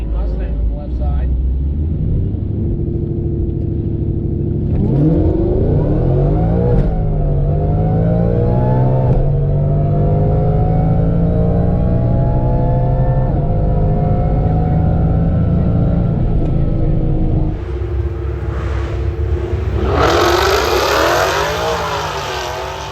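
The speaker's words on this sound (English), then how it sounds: "Ken Hilliard coming up next out of Jackson, Tennessee, 2015 Mustang on the left side." A 2015 Ford Mustang GT with a Gen 5 3.0 Whipple supercharger launches down a quarter-mile drag strip at an NMRA event, with a loud engine roaring and climbing through gear changes, and a brief higher burst near the end.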